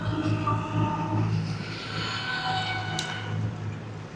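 A slow DEMU diesel train approaching a stop at Gour Malda runs past with a steady droning engine hum and a rumble of wheels, loud and continuous, with a brief higher squeal near the end.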